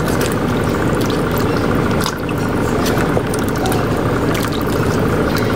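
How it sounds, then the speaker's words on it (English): Keto dinner stew stirred in a pot, a continuous wet sloshing and squishing with small drips and liquid churning, close and steady, with no voices. "I'm going to stir it all up"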